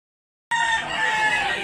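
A Boston Roundhead gamefowl rooster crows loudly and close at a fowl sale in Cebu, one sustained cock-a-doodle-doo starting abruptly after a brief silence.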